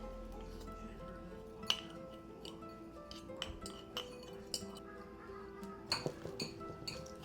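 Butter, brown sugar and cinnamon are mixed in a bowl for cinnamon roll filling, heard as soft, scattered clinks and taps of a utensil against the bowl, fairly quiet and near, with no one speaking.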